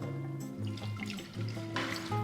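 Water pouring into a Thermomix bowl for focaccia dough, a soft bubbling trickle that fills and gurgles in short uneven surges, quiet and close with no talking.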